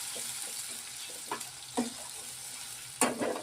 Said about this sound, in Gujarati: ડુંગળીને આપણે બરાબર ફ્રાય કરી દેવાની છે